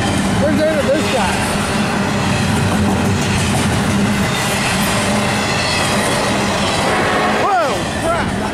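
A train passes close by with a loud continuous rumble, clattering wheels and a brief metallic squeal, while a person's voice briefly sounds over it.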